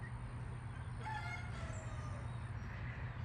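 A Cayuga duck flock on a farm calling near the mic over a steady low hum, with a few short nasal calls and quacks rising mid-clip.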